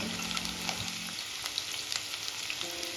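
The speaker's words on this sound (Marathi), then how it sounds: "या स्टेजला चॉप केलेला कांदा ऍड करून घ्यायचा इथे आपल्याला कांदा छान गोल्डन कलर येईपर्यंत परतून घ्यायचा आहे" Chopped onion fries in hot oil in a wok, a loud continuous sizzle with occasional stirring scrapes and crackles, close up and without speech.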